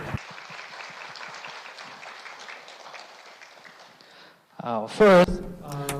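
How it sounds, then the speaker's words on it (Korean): A conference audience at a Unified Patent Court session applauds to welcome the court's president, with steady, moderate clapping for about four seconds that fades out before a voice begins speaking near the end. "박수로 맞아주시기 바랍니다"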